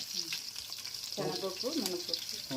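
Onion and garlic cloves frying in oil, a soft, steady sizzle heard up close, with a faint murmur of voice partway through.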